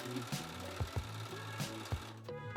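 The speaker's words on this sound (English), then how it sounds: "And sew it 1/4 of an inch." A sewing machine runs continuously, stitching quilt fabric pieces together at a quarter-inch seam for a table runner, with a steady mechanical hum and a few sharp clicks and thumps at irregular intervals, fairly close.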